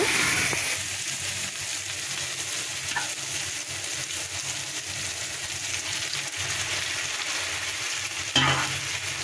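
Tomatoes frying in pangas fish gravy while being stirred, a continuous close sizzle with scraping stir strokes and a sharper clatter near the end.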